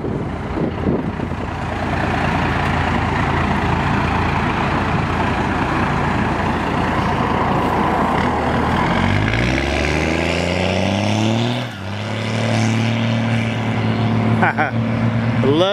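A 1992 Dodge 2500 club cab 4x4 with a Cummins diesel engine pulls away on a chip and seal road, loud and close. The engine roars and climbs in pitch through several gear changes, then recedes.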